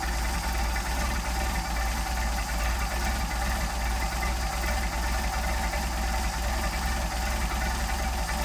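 Mercedes 190SL engine with Solex carburetors idling slowly at about 500 rpm on a cold start, a steady low rumble with a rapid even pulse and mechanical clatter, close and continuous with no talk.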